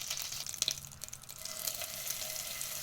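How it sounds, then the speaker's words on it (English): A tablespoon of butter heats in a pan with a soft, steady sizzle and faint crackles, quiet and continuous throughout. "Mix that well as you're heating up your tablespoon of butter."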